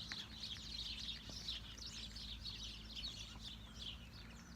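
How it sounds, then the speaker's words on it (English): Lively birdsong from several birds in a garden in the west of Ireland in early spring, with bright repeated chirping phrases carrying steadily throughout over a soft low background hum, no voices. "the bird song is just incredible"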